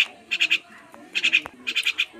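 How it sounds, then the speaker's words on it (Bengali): A single male spotted dove (tila ghughu) in captivity gives three bursts of rapid, close, clear call notes, each a quick run of three or four pulses, separated by short quiet gaps. "এই হলো আমার টিলা ঘুঘু, সিঙ্গেল নর"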